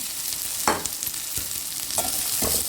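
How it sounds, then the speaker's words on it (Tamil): Chopped beans sizzling in a pan with onions for a poriyal, stirred in several quick scraping strokes over a constant close frying hiss. No voices. "அடுத்து பீன்ஸை சேர்த்துக்கலாம்."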